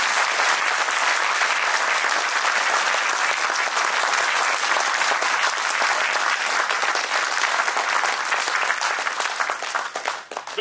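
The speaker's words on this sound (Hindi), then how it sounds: "जोर से ताली बजाइए।" Loud, sustained audience applause at a World Consumer Rights Day programme honouring a state governor, dense continuous clapping from a large crowd for over ten seconds with no voices.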